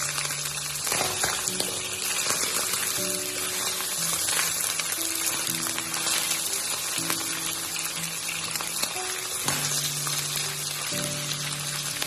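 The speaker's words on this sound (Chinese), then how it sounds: "油热之后，先把泥鳅倒下去煎香。" Loaches frying in hot oil in a wok, a continuous loud crackling sizzle close up, steady throughout with occasional bursts of spatter, no talking over it.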